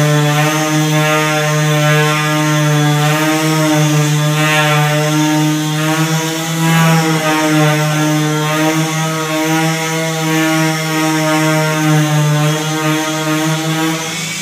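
A palm sander runs on a wooden stair railing during restoration, giving a steady, loud, close electric whine with a constant buzzing drone that holds unbroken throughout, with no talking.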